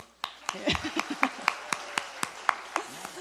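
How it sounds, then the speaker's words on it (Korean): Church congregation members clap in a steady rhythmic beat during an afternoon worship service, about a dozen sharp even claps spaced roughly a quarter second apart, fairly quiet, with faint voices murmuring underneath. "이럴 때는 박수"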